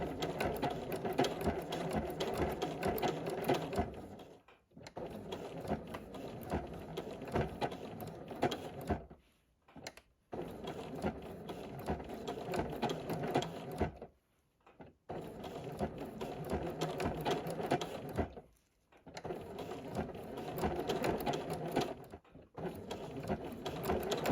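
A sewing machine runs in long steady bursts of straight stitching while appliquéing fabric hearts, its rapid needle chatter cut by several brief pauses, close and alone.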